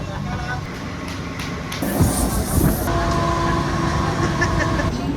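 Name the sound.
local commuter train passing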